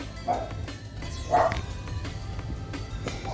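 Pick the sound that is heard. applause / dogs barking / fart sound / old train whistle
dogs barking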